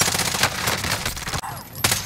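Dense rapid gunfire in Call of Duty Warzone, a loud close burst of overlapping shots that breaks off briefly and then resumes.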